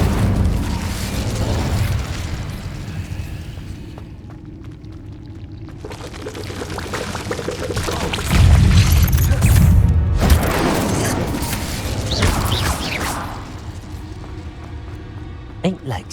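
In Hogwarts Legacy an Incendio fire spell is cast. Loud roaring, crackling bursts of flame swell and surge, with a heavy low blast near the middle and a fading hiss at the end, under game speech.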